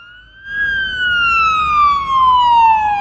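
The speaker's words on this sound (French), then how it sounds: "J'active la sirène, mais les voitures en farandole, tranquilles, qui ne me laissent pas passer" Ambulance siren from the paramedic driving game Ambulance Life: A Paramedic Simulator, a loud steady wail that starts abruptly after a brief quiet moment and slowly falls in pitch, with no talking over it.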